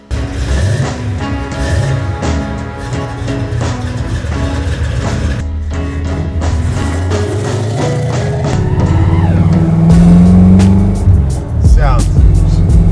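A Yenko Camaro muscle car drives with a loud, continuous engine roar that builds and revs toward the end, up close and heavy throughout, while people talk over it.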